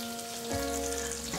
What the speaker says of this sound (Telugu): ఎండుమిర్చి వేసి వేయించాలి.